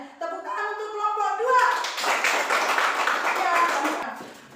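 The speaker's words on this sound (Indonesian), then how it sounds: "Tepuk tangan untuk kelompok" Children in a fifth-grade classroom clap for a student group, a dense burst of many small hands that follows a teacher's short spoken line, with voices mixing into the clapping.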